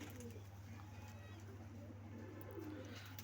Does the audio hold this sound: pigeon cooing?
yes